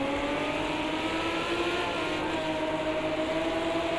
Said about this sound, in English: So this is the cockpit view from Jamo's car